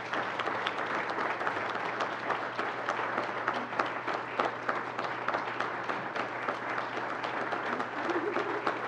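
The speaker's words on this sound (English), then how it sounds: "Please give them a round of applause." Steady applause from a seated ceremony audience greets two graduates, a continuous patter of many hands clapping at an even level throughout, without speech on top.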